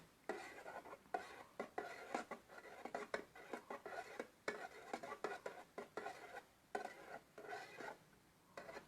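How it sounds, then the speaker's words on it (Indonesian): MES detergent is stirred into hot water while making liquid detergent, producing a steady rhythmic swishing and scraping of a utensil in a container, close and fairly soft, with no talk. "Tinggal kita aduk saja sampai dia betul-betul larut ya"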